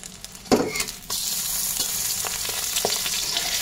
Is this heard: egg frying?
yes